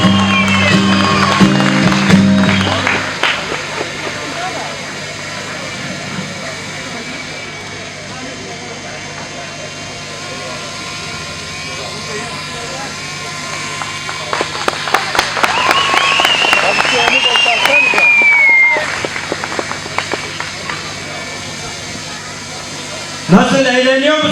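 A big outdoor concert crowd at a show at Yenikapı claps and cheers in a long, dense wave of applause that swells midway, with a few shouts mixed in.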